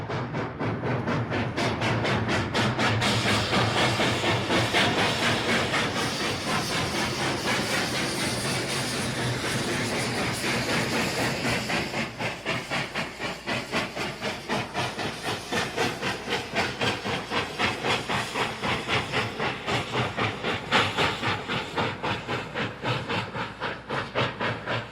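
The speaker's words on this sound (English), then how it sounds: "Listen to the sound of the engine echoing off the massive tailings pile." A steam locomotive engine climbing a steep grade near a small mining town, its steady rhythmic chuffing and hiss echoing off a massive tailings pile, loud and continuous throughout.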